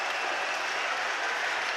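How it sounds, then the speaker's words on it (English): Boxing crowd in an arena at a fight's end, a steady, dense wash of applause and cheering that holds at even loudness throughout, with no voices standing out. "Delirious reaction from the crowd."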